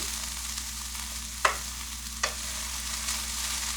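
Steady low sizzling of chicken frying in a pan, with a couple of sharp clinks from a utensil partway through; no talking.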